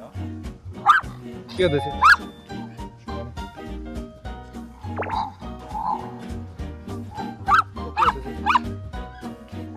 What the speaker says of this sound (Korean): 또 얘가 나한테 짖으면 또 끼어드는 거예요.